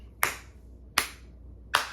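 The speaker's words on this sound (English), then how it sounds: "I do the slow clap like Tyrone" Three slow, evenly spaced hand claps ring out clearly, each a sharp crack about three-quarters of a second apart, against a quiet background.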